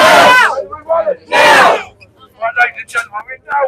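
A protest crowd at Parliament Square chants Starmer Out, two loud shouted bursts followed by scattered whoops and yells from people nearby.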